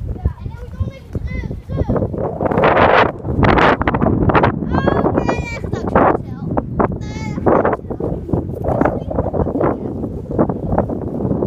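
Wind buffets the microphone outdoors beside the water near boats, gusting loudly and unevenly throughout while people, including a child, talk and sheep-like bleats break through.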